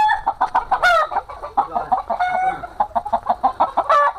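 Local desi chickens on a small farm clucking and squawking close by in quick, busy bursts, with one louder cackle standing out, and no talk.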